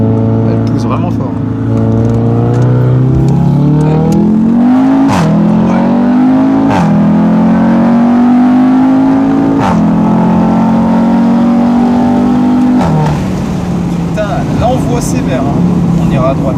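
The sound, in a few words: Audi RS3 accelerating hard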